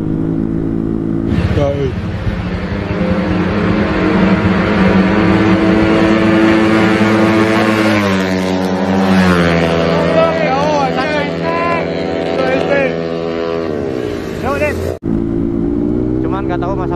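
A freshly tuned motorcycle on a night ride is revved hard against its rev limiter, its loud, harmonic engine note sweeping up and down continuously and close by, with a brief cut near the end.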